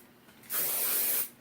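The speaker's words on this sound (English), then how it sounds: "we're going to take our hairspray" Hairspray hisses from an aerosol can onto freshly curled hair in one continuous close burst lasting under a second, with quiet room tone before and after.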